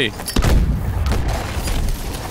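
A smart grenade blast in Call of Duty: Advanced Warfare gives a sharp boom followed by a sustained rumbling roar mixed with other game effects, loud and close.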